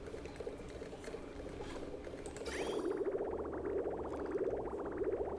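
Water pumped and poured into a container in a game test build: a steady trickling wash that turns into a louder, rhythmic gushing pour partway through, with no talk.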